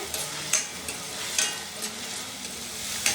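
Chicken frying in oil for a spicy pepper chicken curry, a constant close sizzle with periodic soft scraping strokes of stirring, no voices.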